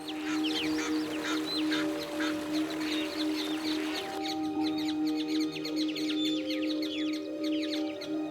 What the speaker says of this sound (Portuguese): De alvéolas a patos de pico amarelo.